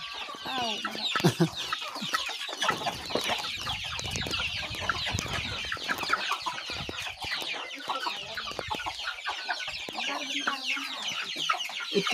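Many farm chickens clucking busily at feeding time, a dense, steady chorus of clucks and squawks with occasional louder calls, close by and continuous.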